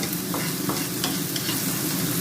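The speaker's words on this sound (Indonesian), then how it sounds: "Ini mau masak sambal goreng" Clams sizzle loudly in a pan as they are stir-fried for sambal goreng, a continuous close crackle broken by regular scraping stirs about three times a second.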